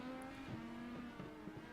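IndyCar pulling out of the pits in iRacing, a steady engine whine with a brief tire chirp and shifting tone, moderately loud and alone.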